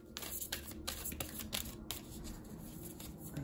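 Tarot cards shuffled by hand at close range, a quick series of crisp riffling flicks and slaps, with no talking.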